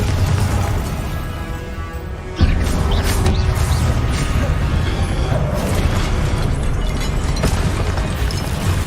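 Confringo spell explosions during combat in Hogwarts Legacy, a dense, loud, continuous wash of blasts and game effects that jumps to a heavier level partway through.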